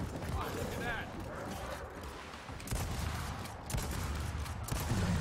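Rapid bursts of gunfire from the Gears of War 4 multiplayer game, crackling shots and mechanical clatter running throughout at moderate level beneath a voice.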